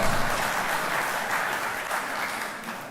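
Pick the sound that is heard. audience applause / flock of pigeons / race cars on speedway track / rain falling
audience applause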